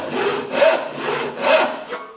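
A handsaw crosscuts wood in two close back-and-forth strokes, each a clear rasping sweep, with no talk over them.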